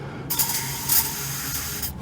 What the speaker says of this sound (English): I'm gonna spray some brake cleaner in there to get the